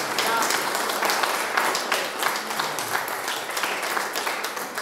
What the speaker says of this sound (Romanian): Chiar merită aplaudat.